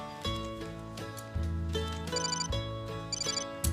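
A telephone rings in a TV advert, with repeated bright electronic rings sounding over a steady musical backing, loud and close with no talking.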